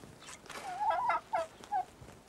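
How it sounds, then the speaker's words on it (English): Turkeys coming out of a pen gobble in a short burst of warbling calls followed by two brief separate gobbles, moderately close with no talking. "The first three are female turkeys."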